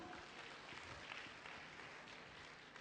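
Faint, continuous applause from a seminar audience at a cervical cancer health event, a dense wash of distant clapping lasting a few seconds with no voices.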